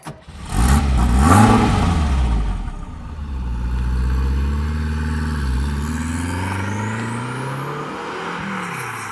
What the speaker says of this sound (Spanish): Vamos a encender motores, en este caso motor,